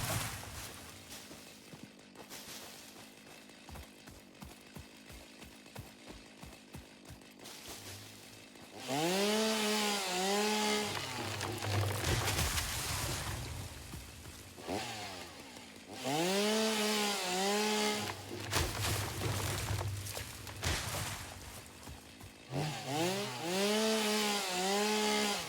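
Chainsaw from the video game Satisfactory biting into material in loud, sustained bursts with rising and falling whine, separated by quieter stretches of idling and rapid ticking.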